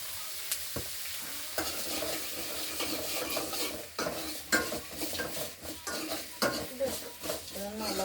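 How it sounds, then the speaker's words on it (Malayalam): Beetroot and tomato sautéed in a pan for chutney make irregular scraping stirs and metal clinks over a gentle sizzle, fairly quiet and close. "ബീട്രൂട്ട്, തക്കാളി ഇതൊന്ന് വതക്കിയെടുക്കാം."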